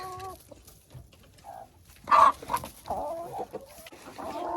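Hens murmur and cluck softly inside a warm, bedded coop, with a few louder squawking calls in the middle and steady low clucking continuing nearby.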